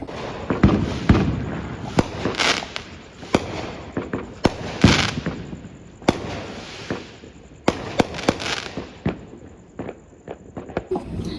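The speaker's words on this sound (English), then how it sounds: "You can probably hear the fireworks" Fireworks pop and crackle in scattered bursts over a home garden in Los Angeles, some sharp close bangs and others softer, with a steady high whine running underneath.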